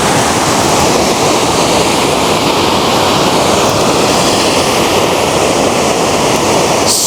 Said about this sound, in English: so we finally made it to the Towab Falls.